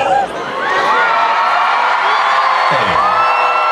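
A large concert crowd at an outdoor tour show in Sofia cheers and whoops loudly and continuously, with shrill yells rising above the roar.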